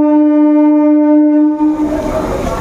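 A Howrah–Katwa line local train at Liluah station, platform 3, on a cloudy day, sounds a long steady horn, then breaks into the loud rumbling, clattering noise of the train pulling away.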